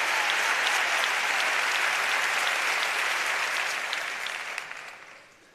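Sustained loud ovation from a theatre audience during the Seville Holy Week proclamation, dense steady clapping that holds strong and then tapers off in the final second.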